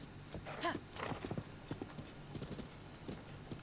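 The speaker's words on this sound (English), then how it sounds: "Whoa there, horsey boy" Horse hooves clip-clop in quick, uneven steps in Zelda: Tears of the Kingdom, a soft whinny at the start, faint and fairly quiet with a voice talking briefly over it.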